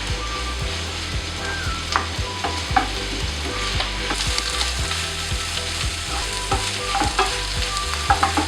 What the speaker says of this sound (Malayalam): അപ്പം നമുക്ക് സിമ്മിലിട്ടിട്ട് നന്നായിട്ട് വഴറ്റിയെടുക്കണം.